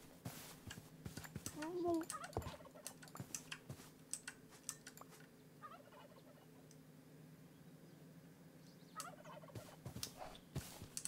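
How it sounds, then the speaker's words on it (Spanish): Turkey gobbling in Minecraft with the RLCraft mod, one short gobble near the start over faint clicking keyboard taps, followed by quiet ambience and scattered clicks. "Hay un pavo bajo tierra."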